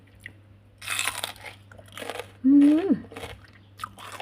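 Someone bites and chews crunchy papaya close to the mic, a few crisp crunches in bursts, with a brief vocal sound of enjoyment in the middle.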